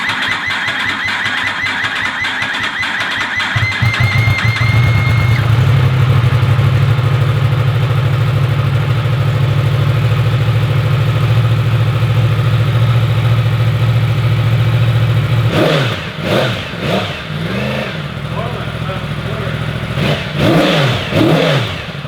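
A big-bang 1998 Yamaha R1 motorcycle engine runs loud and close, holding a steady idle before several sharp revs toward the end.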